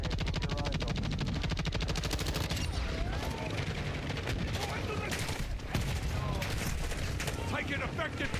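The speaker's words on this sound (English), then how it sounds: "Taking effective fire!" Dense automatic gunfire and bursts of shooting in the shooter Black Ops 6, continuous and loud across the whole stretch, with voices calling out underneath the din.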